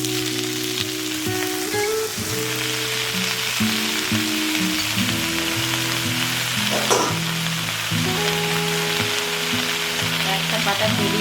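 Pumpkin leaves fry with green chilies and garlic in a loud, continuous crackling sizzle that runs steadily for the whole stretch, close-up, with faint tonal background hum and no speech.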